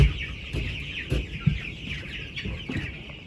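Two-week-old meat chickens in a brooder give soft, steady peeping and chirping close by, with a few louder thumps and clucks scattered through the continuous chatter.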